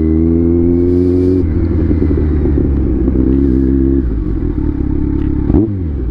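A Kawasaki Z900 SE motorcycle engine idles loud and close with a steady throbbing rumble, then blips its revs in a couple of short surges and drops back to idle near the end.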